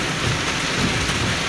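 Heavy rain pounds steadily on a car, a loud, dense, continuous roar of drops on the roof and glass with no voices.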